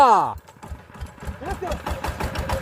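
A walking tractor, or power tiller, on a mountain farm coughs into life and settles into a rapid, uneven idle, close and fairly loud, with a voice speaking over the start and some talk continuing.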